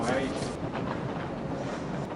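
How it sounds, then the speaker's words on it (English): A passenger train rolls by on a US trip, giving a steady broadband rumble and rush with a faint clatter, fairly close and continuous, with some voices mixed in. "there's a train, isn't it?"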